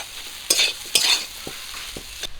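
Potatoes frying in a pan for egg chops, a soft sizzle punctuated by two louder spatula stirs and a few lighter scrapes, close and brief.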